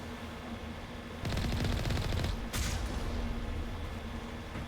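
A sudden burst of automatic gunfire in Mass Effect Legendary Edition, a rapid rattling volley lasting about a second and a half, then a sharp follow-up shot, fairly distant and muted over a steady background hum.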